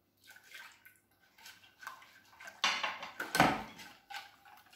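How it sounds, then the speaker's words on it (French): Milk is poured into a mixture for a lemon-meringue-style verrine dessert: a short liquid splash and trickle rises midway, with light kitchen clatter of dishes around it and no talking. "Je vais y verser mon lait."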